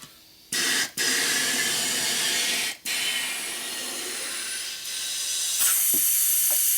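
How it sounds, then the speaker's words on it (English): Compressed air hisses in long loud bursts into a motorcycle tire inner tube, several blasts broken by brief pauses and small mechanical clicks near the end. "we put air in it a couple times to blow the tube up"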